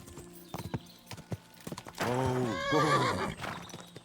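In the video game Kingdom Come: Deliverance 2, a horse gallops with quick, close hoof clops, then lets out a loud, drawn-out neigh that dominates the middle of the clip before the hoofbeats return.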